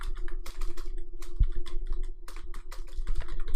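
Rapid typing on a computer keyboard while coding, with dense, irregular key clicks close up and a steady low hum in the background.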